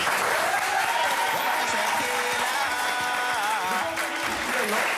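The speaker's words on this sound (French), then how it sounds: "il y a tellement d'applaudissements" Studio audience applauding on a French entertainment news show, a dense, loud wash of clapping that runs throughout, with music and a voice faintly mixed underneath.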